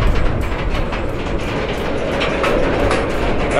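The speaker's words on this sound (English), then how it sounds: "As soon as you get up here, that train wants to start moving." Train pulling away with a steady heavy rumble and regular clacking wheel beats, loud and close throughout.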